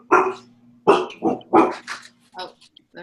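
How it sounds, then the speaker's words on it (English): A dog barks sharply several times in quick bursts, near and loud, coming through an open microphone on a group video call, with a few softer yelps trailing off. "Somebody's dog."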